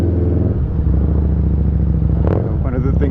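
Harley-Davidson Street Rod motorcycle fitted with an aftermarket Vance & Hines exhaust, rumbling steadily at close range with a deep pulsing idle, a brief rise in revs near the end and a voice talking over it.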